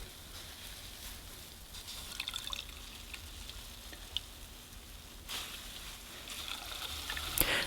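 Purple cabbage liquid squeezed through a mesh cloth into a bowl, heard as faint trickling and dripping with soft wet squishes, quiet and close with no talking.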